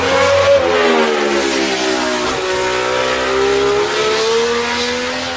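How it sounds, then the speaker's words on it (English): A late 1960s or early 1970s Ferrari 312BB racing car screams past at high revs, its loud engine whine rising and shifting pitch across several gear changes as it passes, with no talk. "That was a late 60s,"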